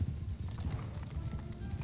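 Horses galloping across a battlefield in Mount & Blade II Bannerlord, a steady low rumble of many hooves pounding together, close and continuous throughout.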